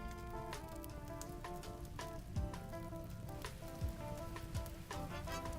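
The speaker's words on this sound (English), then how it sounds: "I'll give you some rain." Soft rain pattering on a surface, a quiet continuous patter with scattered drips, blended with faint background music.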